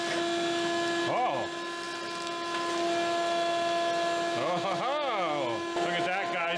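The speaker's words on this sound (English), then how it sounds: "this vacuum is very, very heavy all of a sudden. So it's picking up a lot of rocks" A vacuum drones steadily while it sucks up rocks while clearing out an abandoned backyard fallout shelter, with the pitch whining and bending as debris rattles through the hose.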